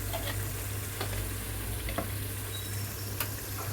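Egg biryani masala with kasuri methi, garam masala and coriander powder being stirred in a pan: a soft steady sizzle under scattered light scrapes and clicks of the spoon, fairly quiet and without talk.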